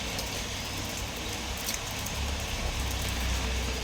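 Heavy rain pours down in a dense, even roar of hiss and rumble, with no breaks and no voices.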